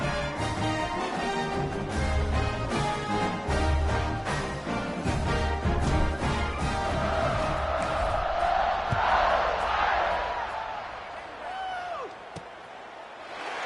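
Home crowd at a college football game involving Syracuse, cheering steadily throughout as a broad, sustained roar that swells toward the end, with occasional thuds and shouts in the mix.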